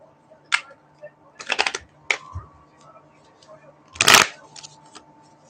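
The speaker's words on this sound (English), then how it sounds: "So just give me a chance here to shuffle because I like to shuffle pretty thoroughly." Tarot cards being shuffled thoroughly by hand, in several quick riffling bursts of papery flutter, the loudest near the end, over a faint steady hum.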